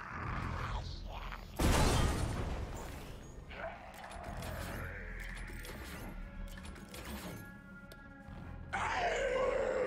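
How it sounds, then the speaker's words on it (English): A heavy mechanism in Resident Evil Resistance grinds and creaks as a path closes, with a loud rumbling burst early on, then sustained groaning and clanking that swells again near the end. "That is the sound of another path closing for you."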